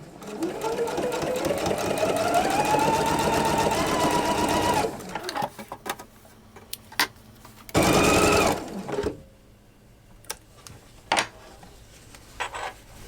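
A sewing machine stitches a quilt seam under the presser foot, whirring steadily for about five seconds, then falls to quiet handling noises with one more short burst of stitching.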